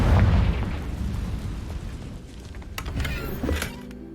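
In Hogwarts Legacy, the Confringo fire spell goes off with a deep, rumbling boom up front, followed by lingering crackles and a couple of sharp pops as it dies away.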